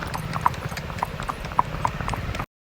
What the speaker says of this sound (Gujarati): ડાબલાનો અવાજ આવે છે